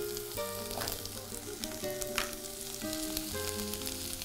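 Chopped small onions frying in a pan, a steady sizzle that runs the whole time with soft stirring noises over it, close and fairly loud.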